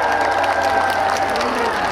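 A large outdoor crowd packing a plaza in Daegu's Buk-gu claps and cheers for a singer at the close of a concert, a dense, steady roar of applause throughout.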